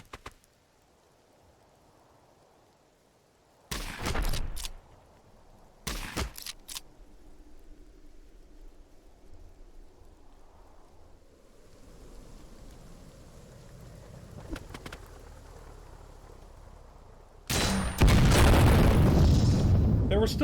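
Heavy exchanges of fire and explosions in Heart of the Machine erupt in separate loud bursts between quieter stretches, swelling into a sustained crackling barrage at the end.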